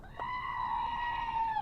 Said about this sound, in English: Goat's a little cold too.